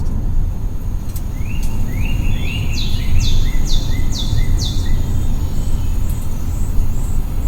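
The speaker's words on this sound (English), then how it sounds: "You also have Lively Forest." Lively forest nature soundscape played through the Harman Kardon 10-speaker system in a 2021 Kia Telluride: a series of bright, repeated bird chirps and rising whistles over a steady low ambient rumble, with no talking.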